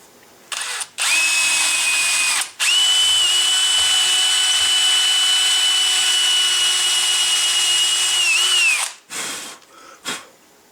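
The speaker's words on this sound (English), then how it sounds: "Now I'll go ahead and drill the hole I need for the" An electric drill whirs at a steady high pitch for several seconds as it bores a sear hole into a wooden gunstock, with brief starts and stops at each end.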